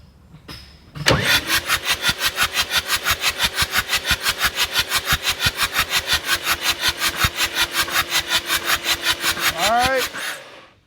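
An old equipment engine cranks over steadily with its injectors removed, a loud rapid rhythmic chugging that starts abruptly, runs for about nine seconds and stops.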